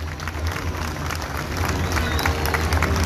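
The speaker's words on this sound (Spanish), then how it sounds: "Démosle un fuerte aplauso a ella" A crowd at the opening of the San Miguel carnival festivities in El Salvador breaks into loud, continuous applause mixed with cheering and crowd murmur, holding steady throughout.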